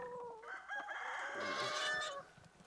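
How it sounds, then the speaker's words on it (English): Chickens on a homestead cluck and a rooster crows clearly at close range, a busy burst of fowl calls with no talking over them. "Hi, chickens."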